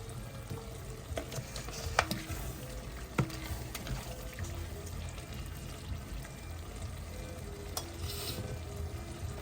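Onion-garlic masala with oil and kasuri methi sizzles quietly in a pan, with a steady low frying hiss and a few sharp clinks of a spoon against the vessel spread through; faint and close.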